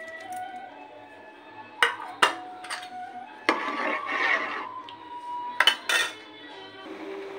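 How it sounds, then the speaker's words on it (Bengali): Soaked Gobindobhog rice tipped into boiled milk in a pot brings sharp metallic clinks of utensils against the vessel and a soft rushing pour, close by, separated by quiet gaps. "এবারে ভিজিয়ে রেখেছিলাম গোবিন্দভোগ চালটা এবার দিয়ে দেবো এর মধ্যে"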